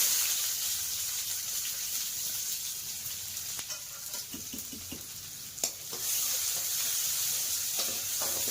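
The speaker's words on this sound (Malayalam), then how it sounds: "ഇച്ചിരി കടുകിടാം. അങ്ങനെ 3 വറ്റൽമുളക്, ഇച്ചിരി കറിവേപ്പില, ഉള്ളി." Mustard seeds, three dried red chillies, curry leaves and onion sizzle in hot oil in a pan, a steady bright hiss broken by a few pops and scraping stirs, close and alone.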